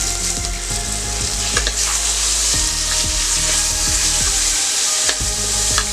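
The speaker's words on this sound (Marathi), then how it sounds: "चांगलं परतून घेऊया।" Asafoetida tempering for a tangy Maharashtrian dal, with turmeric, tamarind pulp, chili powder and coriander, sizzles loudly and steadily close up, with crackling pops and light ticks throughout.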